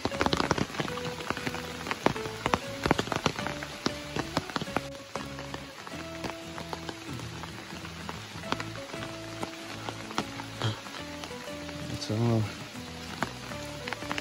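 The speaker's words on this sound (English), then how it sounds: "First day at the camp, and it's raining" Steady rain patters on a surface at a family campsite, with scattered drips and taps, while people talk nearby over the wet background.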